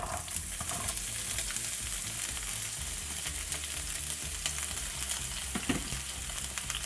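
Chopped onion fries in oil in a deep pan as the first vegetable for a stew of chicken gizzards, giving a steady, close, dense sizzle with faint stirring throughout and no voices.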